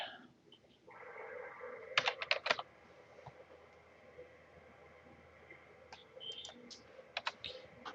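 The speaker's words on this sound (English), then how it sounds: "I'm going to type" Short bursts of quick keystrokes clatter on a computer keyboard during data entry, clustered in two brief flurries separated by quieter room hum.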